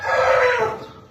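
A shamo-type fighting rooster crows nearby in one strong, rising call that fades toward the end, with no voices over it.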